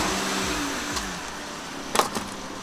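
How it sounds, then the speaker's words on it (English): A van rolls slowly over an electric scooter outdoors, its engine humming low and steady, with a few sharp knocks and a crunch as the wheels go over. "let's run over it with the van"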